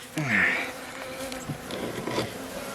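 A dense, steady insect buzz from many honey bees in a large hive in winter, close by and continuous, with a brief louder swell near the start.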